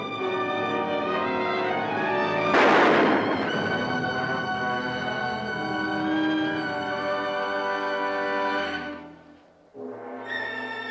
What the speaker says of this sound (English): A rifle shot.